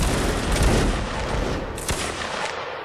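A line of infantry fires a musket volley in Mount and Blade Warband Napoleonic Wars: a loud, ragged crackle of many shots blurring together, then a few scattered late shots as it fades.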